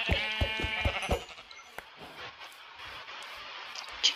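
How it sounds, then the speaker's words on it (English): A Minecraft sheep bleats several times in quick succession, loud and close, then the bleating gives way to quieter ambient game noise with a few faint clicks. "Sheep."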